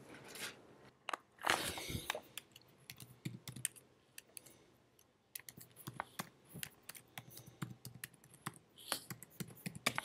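Computer keyboard keys tapped in short irregular bursts while entering login details, close and fairly quiet, with pauses between runs of keystrokes and no talking.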